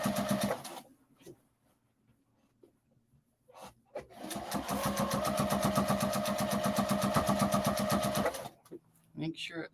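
A sewing machine stitches steadily for about four seconds in a continuous rapid whir, starting and stopping between bursts, with people chatting nearby before and after.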